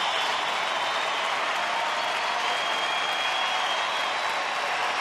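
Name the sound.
baseball stadium crowd cheering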